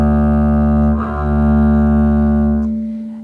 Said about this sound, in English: it will be the forte bowing lane,